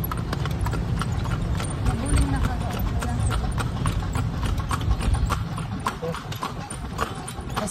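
A tartanilla horse carriage in downtown Dumaguete City: steady clip-clop of hooves on pavement, continuous and close, with people talking over it and street ambience underneath.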